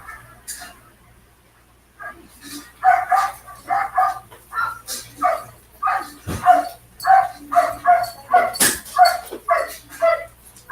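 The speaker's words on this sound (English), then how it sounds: "You guys hear the dogs are excited." Several excited dogs bark in quick, repeated bursts, close and loud, with occasional yips and whimpers between barks.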